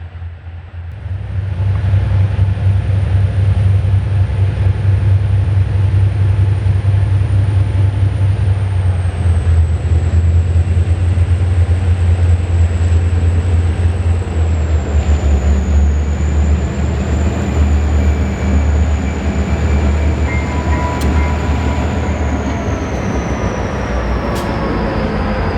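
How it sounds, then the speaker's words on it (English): Portland and Western Railroad locomotives labor uphill on the rugged Toledo District line in Oregon, heading east toward Albany, as a loud, continuous deep engine rumble and drone holds steady throughout. "we can hear the sound of engines working hard, and in this case, those belonging to the Portland and Western Railroad"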